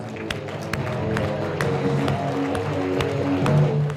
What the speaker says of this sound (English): give a huge, warm round of applause for Dr. Steve Taubman